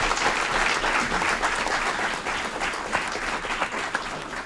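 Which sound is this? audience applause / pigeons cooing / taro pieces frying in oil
audience applause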